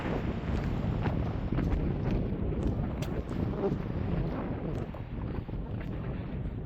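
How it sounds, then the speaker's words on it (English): Wind buffets the microphone on a high ridge top near petroglyphs, making a loud, continuous rumbling roar with gusty swells throughout and no voices. "quite a bit of wind as well."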